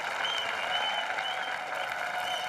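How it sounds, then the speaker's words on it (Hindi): Steady applause from a television comedy show's studio audience, a dense even wash of many hands clapping throughout, moderately loud and with no talk over it. "इनके लिए जोरदार तालियां"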